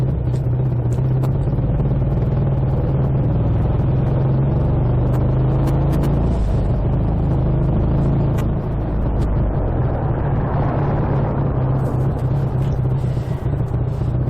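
A BSA A65 motorcycle engine runs steadily on a ride to the Forest of Dean, its clutch grabbing after oil drained from the primary side; a loud, continuous low rumble with clatter persists throughout, with no talk.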